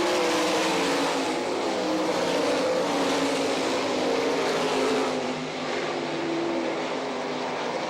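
A sprint car engine screams loud and sustained at a dirt oval during an All Star Circuit of Champions race in Rossburg, Ohio, a continuous high-revving roar of racing engines close by with no clear talk.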